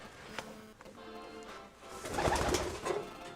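Racing pigeons in a loft give soft, low, repeated coos, with scattered fluttering and shuffling noises and a louder burst of activity partway through.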